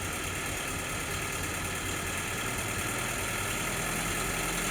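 Engine of an M38A1 jeep with newly adjusted exhaust valves and a new exhaust manifold, running steadily as the choke is pushed in, a continuous close droning hum with a slight knocking vibration and no voices.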